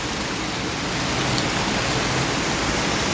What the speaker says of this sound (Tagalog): Tunin sa kusog na ulan.